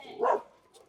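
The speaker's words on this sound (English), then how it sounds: "Across the street's got dogs too." Small-town dogs across the street give a single short bark from a distance, faint and brief.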